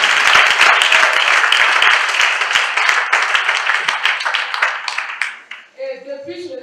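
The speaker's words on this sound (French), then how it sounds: "Acclame Jésus pour ça" A church congregation at a Sunday service applauds with dense, sustained clapping that slowly thins out, and then a voice begins speaking.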